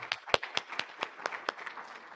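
A small scattering of audience members at an ISOC Day conference clap, with about eight separate, unsteady claps spread over two seconds. They sound faint and somewhat distant.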